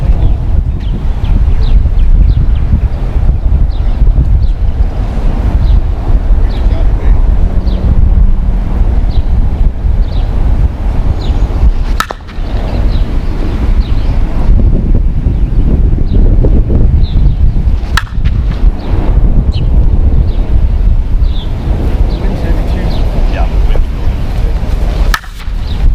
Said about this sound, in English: Strong wind up there now. it's kind of circling.